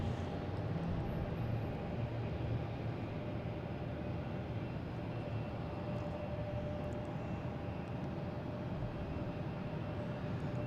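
A JetBlue Airbus A321 arrives at Boston Logan on a flight from West Palm Beach, its engine a steady, broad roar that holds evenly throughout at moderate distance, with no voices.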